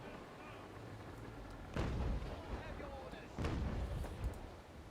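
Ship cannons fire in the naval combat game Naval Action, two heavy booming blasts a couple of seconds apart, each with a rumbling tail, under a steady background of sea and ambient noise.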